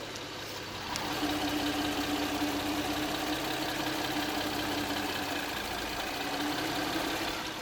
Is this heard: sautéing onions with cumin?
no